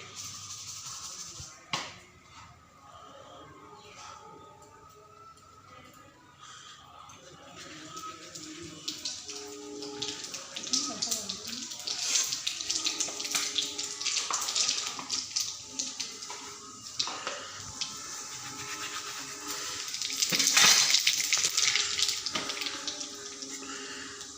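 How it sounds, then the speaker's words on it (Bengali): Dried chillies and black cumin seeds sizzle and crackle in hot oil in a home kitchen, a steady close hiss that swells louder toward the end, with no talking. "তেল গরম হয়ে গেছে, আমি শুকনো মরিচ দিয়ে দিলাম।"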